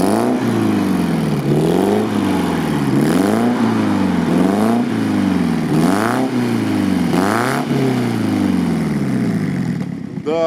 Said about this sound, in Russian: Вот, иди послушай, как глушитель у меня работает.